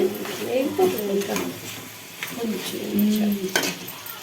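Onions sizzle and fry in a pan during festive fish curry cooking, with steady stirring and scraping throughout and soft voices talking nearby.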